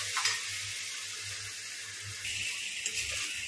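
Ginger and garlic fry in a pan for a mutton white biryani, a soft continuous sizzle with light rhythmic stirring scrapes near the start and again toward the end, close and fairly quiet, with no talking.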